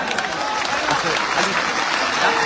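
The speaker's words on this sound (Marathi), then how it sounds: "30 सेकंद सलग टाळ्या वाजवत राहायचे." Steady applause from a crowd at a Maratha community rally, loud and continuous without a break, with voices mixed into the clapping.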